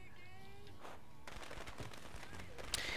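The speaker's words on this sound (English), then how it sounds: "What's that? Firecrackers! Hell yeah!" Firecrackers going off in the video game Dead Rising 2: after a second of game tones and ambience, a dense, continuous stream of sharp crackling pops breaks out and keeps up at close range to the end.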